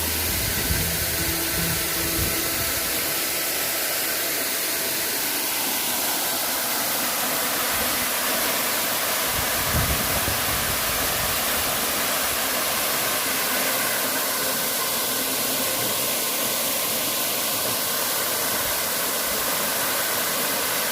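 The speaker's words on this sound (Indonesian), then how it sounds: "Ini air terjun belum ada nama." A steady roar of falling water fills the air at a wild, still unnamed waterfall deep in the Lampung countryside, broad and constant throughout, loud and close, with no talking.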